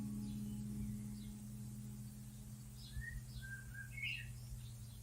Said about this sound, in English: We have birds.